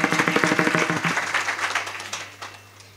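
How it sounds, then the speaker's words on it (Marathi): Audience clapping for a young singer at a kirtan, a quick run of rhythmic hand claps over a steady held tone, fading into scattered faint claps. "टाळी वाजवा त्याच्यासाठी"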